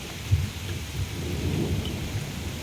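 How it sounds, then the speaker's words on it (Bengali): Heavy morning rain falls steadily under dark skies with lightning, a continuous near hiss of downpour with a deep rumble of thunder rolling low beneath it. "আজকে বেশ ভালোই জোরে বৃষ্টি হচ্ছে"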